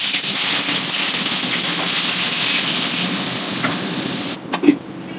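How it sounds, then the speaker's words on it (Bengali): Long eggplant slices coated in salt and turmeric fry in hot mustard oil with a loud, dense hiss that suddenly drops near the end, followed by a few sharp spattering pops. "এবার লম্বা লম্বা করে কেটে রাখা বেগুনগুলো ভেজে নিচ্ছি"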